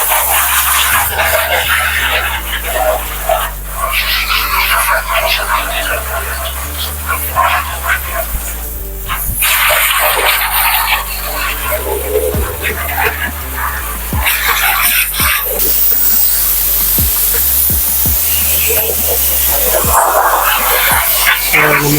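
A steady, loud hiss of pressurized water spraying continuously as car mats are washed at a car service centre, with brief clattering and a dog barking now and then in the background.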